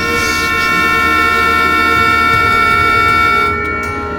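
Truck horn blaring in the zombie film Peninsula, one long loud steady tonal blast held for more than three seconds before cutting off, with low rumbling background underneath.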